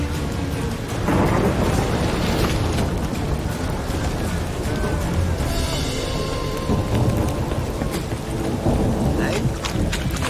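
Rain and rolling thunder in the video game The Witcher 3: Wild Hunt, a steady hiss of rainfall beneath deep, booming rumbles that swell and fade over several seconds.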